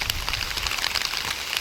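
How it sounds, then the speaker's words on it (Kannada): Drizzling rain falls steadily across open village ground, a fine continuous hiss of small drops with no voices present. "ನೋಡಿ ಎಲ್ಲ ಕಡೆ ತುಂತುರು ಮಳೆ"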